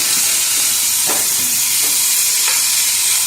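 Ivy gourd (kovakkai) sautéing in a pan for a poriyal: a loud, steady close-up sizzle with a few soft stirring scrapes, no talking.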